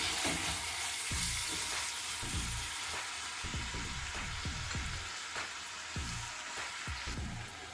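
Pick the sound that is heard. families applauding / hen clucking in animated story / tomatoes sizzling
tomatoes sizzling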